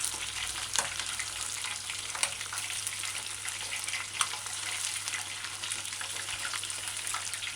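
Chicken pieces frying in oil, a steady dense crackling sizzle held throughout with occasional louder pops, close and even, no voices.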